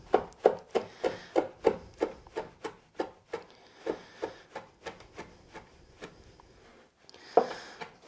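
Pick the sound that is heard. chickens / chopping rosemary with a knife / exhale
chopping rosemary with a knife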